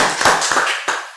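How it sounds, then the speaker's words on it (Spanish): A church congregation claps in a few sharp, uneven bursts, close and brief, with no talking over it. "Démosle un aplauso al Señor."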